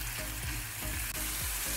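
Ground pork or beef frying in a pan for tortang talong, a steady close sizzle and crackle with faint stirring scrapes, no voices.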